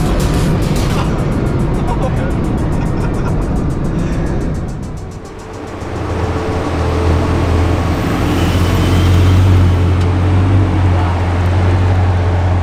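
A Bugatti Chiron Super Sport launches hard from standstill, its engine note dipping then swelling into a loud, deep sustained roar from inside the cabin, with excited voices talking over it.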